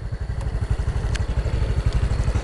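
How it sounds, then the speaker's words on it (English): A motorcycle engine keeps running on its own after a roadside spill, a steady, loud, throbbing idle with rapid regular pulses and a faint metallic tick or two on top, with no voices. "Engine's still running."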